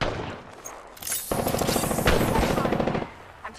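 Rapid automatic gunfire from an Apex Legends match bursts in loud and close, a dense stream of shots lasting about two seconds, preceded by a few scattered shots.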